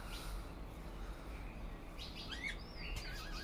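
Diamond doves at a nest give a few soft, high chirping calls late in the clip, faint over a steady low indoor hum.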